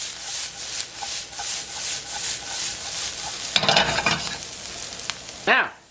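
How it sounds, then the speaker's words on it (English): Chopped garlic sizzling with onions and peppers in a hot pan, a steady frying hiss with soft stirring scrapes, then a louder burst of clattering and sizzle near the end. "Now we're going to add 3 cloves of garlic,"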